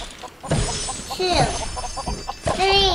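Chickens cluck in a short busy burst in LEGO Worlds, with rising and falling squawks and a few sharp notes over game background sounds.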